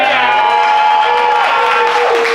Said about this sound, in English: how about a round of applause for your bar and wait staff here taking care of you?